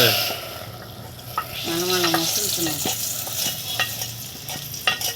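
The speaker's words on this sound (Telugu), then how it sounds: "ఇప్పుడు మా తాలింపు వేసుకుంది సాంబార్లో కలిపేసాం" Tempering being stirred into sambar in a clay pot, giving a close sizzle with scraping stir strokes and a few clinks over about five seconds, with no talk.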